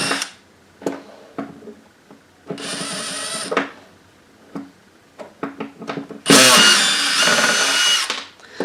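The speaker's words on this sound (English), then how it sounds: "All the screws on these are Phillips, so you need a screwdriver that's Phillips." Screws being backed out of a Technics SX KN-5000 music keyboard synthesizer with a Phillips power driver, in several loud whirring bursts separated by short pauses and small clicks of handling.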